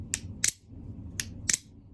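Four sharp metallic clicks in two quick pairs, a butterfly knife's pins snapping against its handle, crisp and close.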